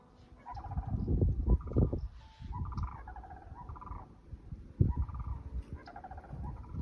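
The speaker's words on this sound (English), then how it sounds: "Cranes." Cranes call repeatedly in the open air of an early-spring maple woodland, their loud rattling bugles rising and falling over several seconds amid other birdsong, with no one speaking.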